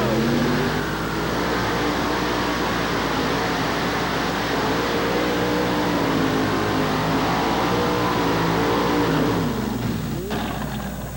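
A Chevrolet pulling truck roars off the line at a 1987 truck pull, its engine a loud sustained drone that holds steady through the run and eases off near the end, with faint crowd and announcer sounds underneath.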